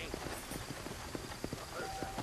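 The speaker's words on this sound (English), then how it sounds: "You ain't gonna find sturdier horses than these in all of New Orleans." Hooves clip-clop in a quick, even rhythm in Red Dead Redemption, set in New Orleans, moderately close, with speech heard over the steps.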